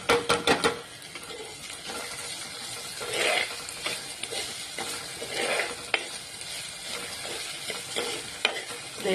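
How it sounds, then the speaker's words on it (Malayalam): Garlic and onion sautéing in a pan until brown for a Kerala karimeen curry: a steady, soft sizzle with repeated stirring scrapes and a few sharp utensil clicks, close and unaccompanied. "ഇങ്ങനെ നല്ലൊരു ബ്രൗൺ കളറാകുന്ന വരെ ഇങ്ങനെ വഴറ്റിക്കൊണ്ടിരിക്കും ഈ വെളുത്തുള്ളി ഉള്ളി"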